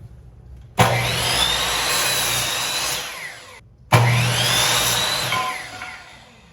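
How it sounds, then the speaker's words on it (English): Miter saw cutting at an off-grid workspace, two loud close bursts, each a sharp spin-up into a sustained whine that winds down, separated by a brief gap, with no talking. "So I'm using this miter saw."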